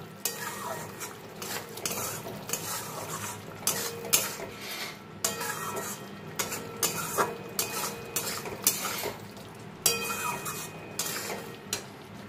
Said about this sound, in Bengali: এবার আলুর সঙ্গেও মশলা খানিকক্ষণ কষিয়ে নেব